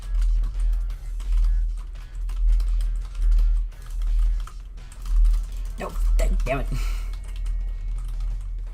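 Rapid computer keyboard typing during video gameplay on a boss level, continuous clattering keystrokes with pulsing bursts under a low hum, and a man briefly exclaiming partway through.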